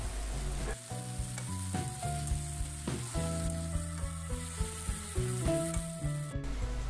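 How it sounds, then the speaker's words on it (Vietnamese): Mushrooms sizzle and crackle in a hot pan while being stir-fried, with occasional scraping clatter over a steady frying hiss. "Xào lên thật đều để nấm thấm vào gia vị nhé"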